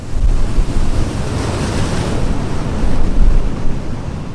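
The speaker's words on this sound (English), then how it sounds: "Look at these waves behind me, they're absolutely massive." Massive storm-driven ocean waves on New Zealand's wild west coast near Barn Bay, a loud continuous roar of surf with gusting wind buffeting the microphone, rising and falling over several seconds with no voices.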